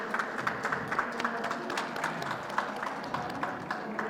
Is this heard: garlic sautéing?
no